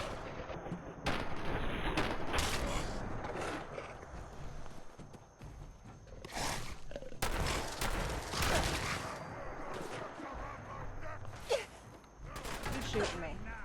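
Enemy gunfire in Fallout 4: scattered bursts of shots and impacts, fairly loud, mixed with footsteps and game ambience across the stretch.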